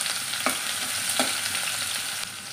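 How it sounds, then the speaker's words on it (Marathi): Mustard seeds, cumin and garlic frying in heated oil for a spiny gourd sabzi, a constant bright hiss with two sharp crackling pops. "आता आपण याच्यामध्ये मोहरी, जिरं, लसूण हे चांगलं परतून घ्यायचं आहे"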